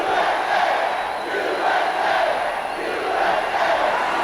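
A capacity wrestling arena crowd chanting USA, loud rhythmic waves of massed voices repeating in a steady cadence, filling the whole space.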